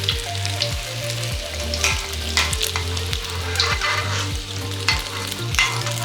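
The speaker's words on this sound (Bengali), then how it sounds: "তেলটা একটু বেশি দিলে ভালো ফুলে। উল্টায় উল্টায় ভাজতে হবে" A Mughlai paratha fries in a generous amount of hot oil, giving a steady, close sizzle with crackling bursts and occasional scraping from turning it, and no voices.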